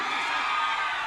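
A crowd of women at a festive anniversary celebration shouting and cheering together, a loud, sustained high-pitched roar of voices lasting about a second.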